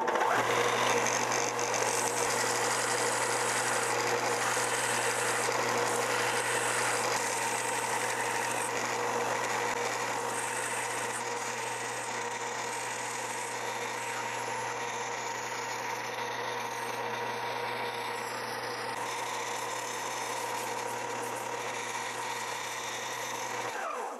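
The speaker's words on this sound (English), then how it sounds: "I'm gonna take this to the belt sander and get some of this material off as fast as I can go." A belt sander shapes a wooden Pilchard-style fishing lure for mahi trolling, making a continuous motorized drone with a steady low hum and grinding texture that holds for over twenty seconds, close and unbroken.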